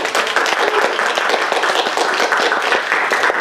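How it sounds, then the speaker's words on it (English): An audience at a 2015 conference talk gives a round of applause, many hands clapping loudly and continuously in a dense, even patter that fills the whole stretch. "So let's all give a round of applause for Yazid."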